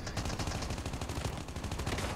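Rapid automatic gunfire from the Call of Duty Mobile multiplayer video game rattles on without a break. The loud bursts are dense and steady, with no voices over them.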